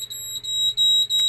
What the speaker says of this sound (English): Now we got a high water alarm.